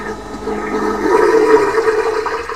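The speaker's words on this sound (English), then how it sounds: "Water saver is just going to flush it one time, press it once, fills it up, and then it's going to flush it down." A single water-saver toilet flush on a 2024 Pursuit DC266 boat, a close, steady rush of water and pump noise that swells midway and holds to the end.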